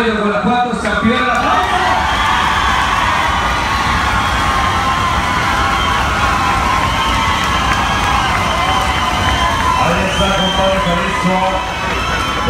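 A crowd at a rooster competition cheers loudly for the champion bird from Rancho Dos Caminos, Guanajuato, a continuous roar of shouting, whoops and applause that holds at full strength without letting up.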